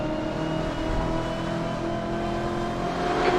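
A race car in the Assetto Corsa racing game, fitted with a modded engine sound and driving the Road Atlanta circuit, revs loudly and steadily close up, its engine note rising slightly at the end. No one speaks.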